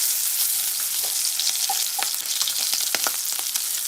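Shrimp fried rice ingredients fry steadily in a pot, giving a bright, continuous sizzle with small crackles and pops, close and loud, with no voices.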